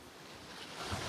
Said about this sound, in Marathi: त्यांच्यामध्ये जो पाण्याचा फ्लो आहे तो खूप जास्त आहे